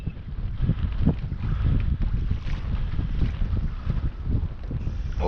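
A boat's outboard motor runs steadily on open water during a fishing trip, its low rumble continuous and close, mixed with gusting wind buffeting the microphone throughout.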